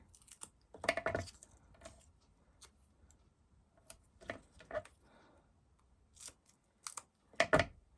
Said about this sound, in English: Just grabbed those non-stick scissors again.